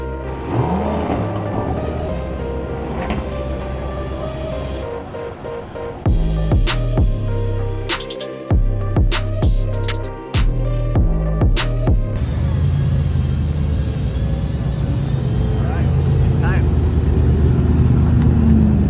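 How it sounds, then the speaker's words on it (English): Aston Martin V12 Speedster, a roofless car, with its V12 engine revving loudly and steadily up close, sharp throttle blips in the middle section, while people talk over it. "The car sounds absolutely incredible"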